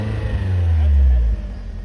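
A BMW E36 engine that sat dead for six years, idling just after starting: a loud, close, rough low rumble that swells briefly then settles back, somewhat chunky and uneven.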